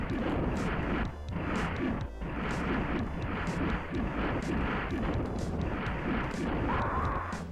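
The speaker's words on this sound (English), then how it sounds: "Probably got hit by some crazy large blast damage." A large blast explosion in SNES Doom, heard within dense, loud rumbling combat noise that is punctuated by repeated sharp booming impacts at a steady rhythm.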